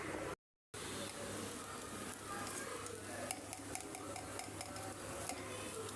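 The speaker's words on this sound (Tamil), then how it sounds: "உருக்கி மண் இல்லாமல் கல் இல்லாமல் எடுத்து இந்த பொங்கலில் ஊற்ற போகிறேன்" Hot melted ghee going into pongal, a soft crackling sizzle with faint stirring and light utensil ticks, quiet and steady after a brief dropout, no talking.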